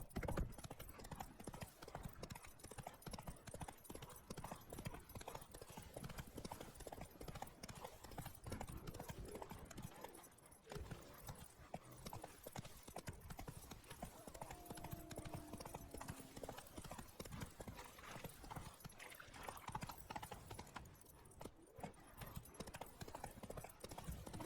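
Steady clip-clop of Roach the horse's hooves in The Witcher 3, a continuous rhythmic gait with an occasional faint whinny, set against game ambience with no talk.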